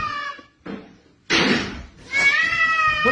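A cat meows loudly and close by in several drawn-out, wavering calls. A short thump falls between the calls.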